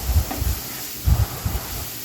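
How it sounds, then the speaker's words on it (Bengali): Grated carrot fries in ghee in a pan, giving soft, uneven hissing and sizzling bursts at close range. "এখন এই ঘিয়ের মধ্যে এই গাজরটাকে আমি হালকা একটু ভেজে নিব।"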